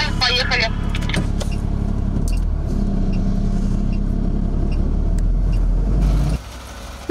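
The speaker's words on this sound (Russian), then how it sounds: "Новенькие КАМАЗы, украшенные шарами, первыми едут по свежему асфальту." New KAMAZ trucks decorated with balloons roll over freshly laid asphalt on a repaired federal highway, a steady loud engine and tyre rumble lasting several seconds before cutting off abruptly near the end.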